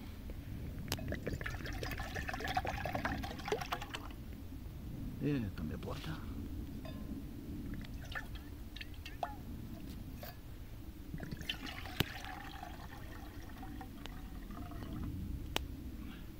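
Water being poured into a pot outdoors beside a burning wood fire to make coffee, a faint, steady liquid trickle and splash lasting several seconds, with someone talking quietly over it.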